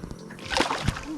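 Mullet fish splash in a tidal creek with a few sharp, close watery slaps over a steady background, and a person speaks briefly around them.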